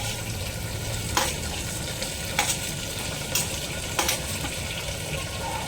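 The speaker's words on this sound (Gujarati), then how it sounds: "તો હવે આપણે ટામેટા નાખી દઈશું." Tomatoes frying with softened onions in a pan, a constant close sizzle broken by several sharp stirring clinks and scrapes at irregular intervals.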